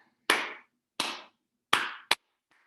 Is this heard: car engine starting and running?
no